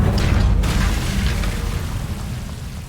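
The Incendio fire spell is cast in the video game Hogwarts Legacy, a deep whooshing boom that rolls out and slowly fades over about three seconds.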